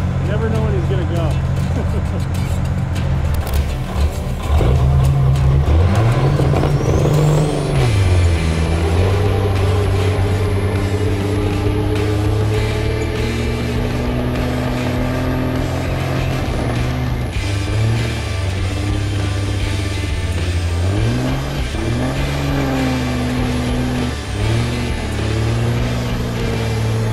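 A 1500 WHP truck does a loaded tire burnout, its engine roaring loudly and rising and falling in pitch as it revs, over a continuous tire screech, with voices talking underneath.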